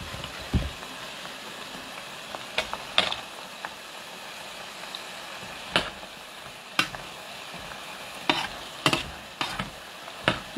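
French fries fry in a cooking pot with a soft steady sizzle, broken by scattered sharp scraping and clinking stirs of a utensil against the pot, no talk over it.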